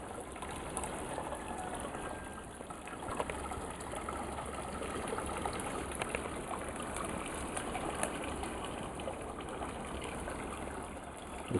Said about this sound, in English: The sound of running water is very relaxing as well.